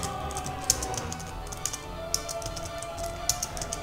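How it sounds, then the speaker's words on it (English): Computer keyboard typing during a Realms of Arkania computer role-playing session, scattered close key taps and clicks at an irregular pace over a low background hum. "You heard a bit of my keyboard."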